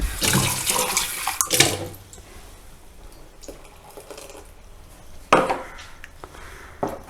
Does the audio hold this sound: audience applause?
no